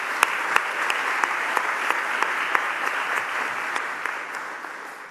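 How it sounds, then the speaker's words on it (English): A town hall audience claps steadily and densely throughout, a sustained wash of applause with a few sharper individual claps standing out. "Give yourselves a round of applause for that, please."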